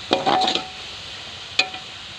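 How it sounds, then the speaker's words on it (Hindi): A spoon stirs green peas frying in a pot for a village-style pulao, giving a few short scraping clatters over a soft, steady sizzle. "मटरों को भूनते हुए मुझे 4 से 5 मिनट हो गए हैं।"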